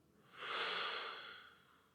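One gentle out-breath during yoga, a close, quiet rush of air that builds for half a second and then tapers away smoothly, with nothing else heard.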